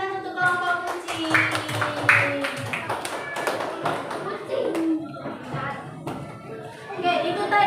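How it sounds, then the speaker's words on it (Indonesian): A primary school class claps for a group after its presentation, the children's clapping coming as scattered, uneven taps mixed with a teacher speaking and children's voices. "Beri tepuk tangan untuk kelompok kucing."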